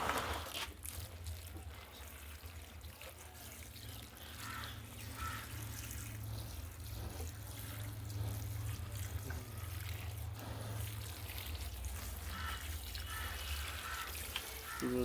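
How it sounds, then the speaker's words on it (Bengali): Water poured over sixteen newly planted money plants in soil-filled bags, a steady low trickle and splash running continuously at moderate distance with no talk. "সবগুলোর মধ্যে আমি জল দিয়ে দিচ্ছি"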